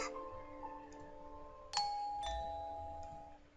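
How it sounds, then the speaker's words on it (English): A video game doorbell chimes twice, two clear ringing tones that sustain and fade, with a quiet background otherwise. "rang the doorbell"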